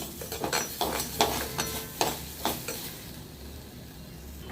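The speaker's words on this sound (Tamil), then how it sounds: "இங்கே ஒரு மண்சட்டி வச்சுருக்கேன் எல்லாத்தையுமே ஒன்றா சேர்த்து வதக்கிக்கலாம்" Ingredients sautéed in a clay pot for a traditional village mudakathan kuzhambu, with a quick run of close scraping and clattering spoon strokes over a soft sizzle that fades to a quieter hiss near the end.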